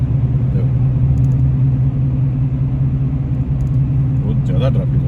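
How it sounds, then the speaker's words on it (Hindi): Heavy traffic crawls on a jammed motorway, giving a steady, dense low rumble of car engines with faint higher noises drifting in and out and a voice speaking over it. "मोटरवे भी पूरा जाम है, अब दिख रहा होगा आपको।"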